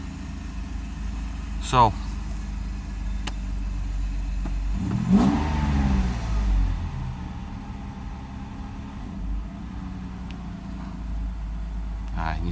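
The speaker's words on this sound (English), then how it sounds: "Here's the start of the vehicle with throttles in place and Egas module in place." A Mercedes 600SL engine, fitted with throttles and an E-gas module, cranks and catches at about five seconds, then revs and settles into a steady running note. It is heard close by, with a voice speaking briefly near the start.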